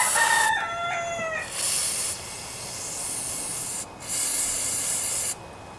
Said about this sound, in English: I can hear he's having a contest with another rooster in the neighborhood.